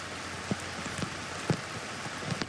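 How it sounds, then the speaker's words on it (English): Heavy rain falling on a golf course at the 2024 BMW Championship, a steady dense hiss with occasional soft thuds of drops, continuous and fairly loud. "you can see how heavy this rain's getting now"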